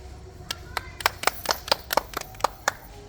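Hands clap in an uneven run of sharp, bright slaps, about a dozen spread over a few seconds, fairly close, with faint talk in the background at a comedy wedding scene.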